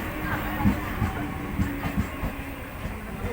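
A train pulls into a station with a low, steady rumble and soft rhythmic clacks of the wheels, heard from nearby on the platform.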